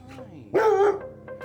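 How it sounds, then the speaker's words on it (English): A dog barks from under a table indoors: one sharp, loud, close bark amid quieter whines and soft vocal sounds, with a faint voice nearby. "that's fine if you want to sit there and bark at me from under the table"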